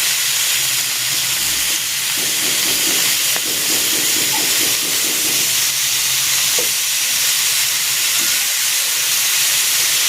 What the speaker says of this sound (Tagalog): Isi-sear ko muna dito itong pork.